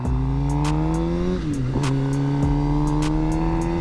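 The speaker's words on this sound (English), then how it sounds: "I'll show you guys a quick wheelie." A motorcycle engine roars loud and close as the rider pulls a wheelie. It holds a strong, steady tone, dips briefly, then climbs back to high revs.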